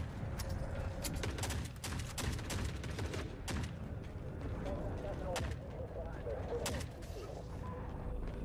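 Turrets in the game Forever Winter fire in rapid bursts of sharp, cracking shots with heavy booms mixed in, dense and loud throughout, while people talk over the combat.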